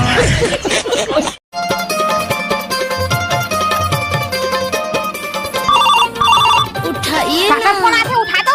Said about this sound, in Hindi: उठाइए काका फोन आते उठा दो।